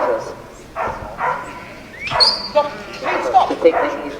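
Dogs bark and yip at an outdoor yard dog championship, several short barks and whimpers spread over a few seconds, mixed with a voice talking.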